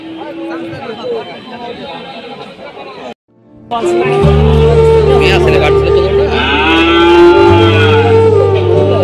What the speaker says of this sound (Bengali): গরুটা কাঁদতেছে কি জন্য ভাই?